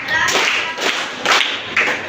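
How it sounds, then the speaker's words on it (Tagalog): A classroom group gives three rounds of applause as a cheer, clapping in sharp, rhythmic bursts that repeat at a steady, evenly spaced pace, loud and close. "Bigyan naman natin siya ng tatlong palakpak."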